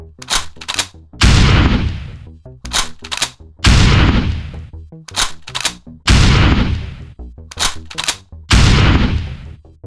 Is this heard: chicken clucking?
no